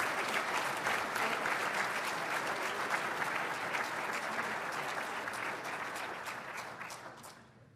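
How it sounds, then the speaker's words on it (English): A large audience applauds steadily at a military professional development forum, dense clapping holding loud and even before tapering off at the very end. "How about a round of applause?"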